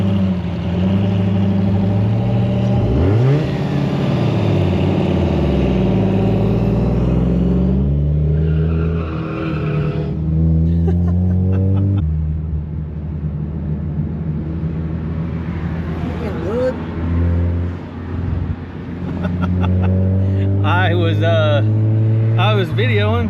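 Several cars at a street car takeover meet pull away from the show, engines revving hard and accelerating loudly past at close range one after another, with people talking over the roar throughout.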